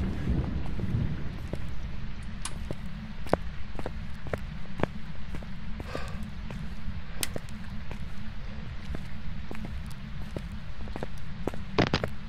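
Steady low rumbling thunder rolls beneath a wash of rain-like noise during a storm in the video game Phasmophobia, with scattered sharp clicks and crackles over the top.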